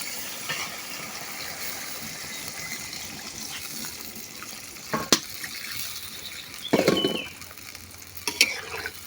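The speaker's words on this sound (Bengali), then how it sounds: "এখন দিয়ে দেবো ঝোলের পানি" Water goes into a pan of pangas fish curry with eggplant. A steady sizzle runs throughout, and three short splashing bursts come toward the end.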